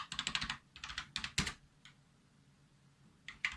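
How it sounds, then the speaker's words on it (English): A password typed on a computer keyboard, close rapid clusters of key clicks in short bursts with a pause before a last few taps, no voices. "So let me just put my password in."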